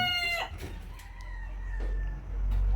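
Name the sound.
Indio Gigante Polaco chickens clucking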